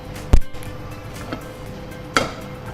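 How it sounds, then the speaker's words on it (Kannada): A gas stove is lit in a home kitchen to start tempering for cooking: two sharp, close clicks of the igniter about two seconds apart over a faint low background hum. "ಒಗ್ಗರಣೆ ಮಾಡಲಿಕ್ಕೆ ಫಸ್ಟಿಗೆ ಒಲೆ ಉರಿಸಬೇಕಲ್ಲ?"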